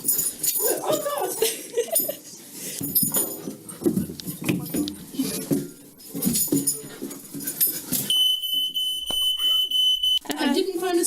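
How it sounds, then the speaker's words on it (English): An indoor fire alarm, set off after being headbutted, gives a piercing, steady high electronic beep near the end. Excited voices talk for most of the clip beforehand. "I Literally headbutted a fire alarm. And it went off."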